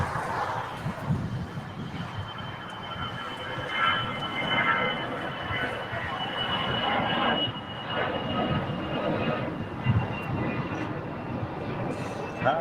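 A heavy airliner, a China Southern Cargo 777, departs on the south side of LAX, with a broad, steady jet roar heard from a distance at a hilltop viewpoint, and faint voices underneath.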